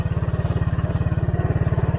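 A motorcycle engine runs close by on a rural road, a loud, steady, rhythmic putter of rapid even pulses, with no talking over it.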